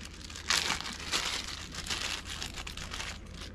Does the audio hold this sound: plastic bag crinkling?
yes